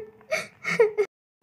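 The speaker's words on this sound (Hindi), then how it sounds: "रूम से रोने की आवाज़ आ रही है" A girl cries in her room with short, close whimpering sobs that break off abruptly into silence.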